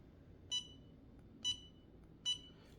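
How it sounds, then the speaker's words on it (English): A heat press gives three short, high electronic beeps spaced about a second apart, moderately faint over a low room hum, signalling it has reached temperature. "You put it down and you wait till it beeps."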